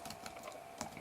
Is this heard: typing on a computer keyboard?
yes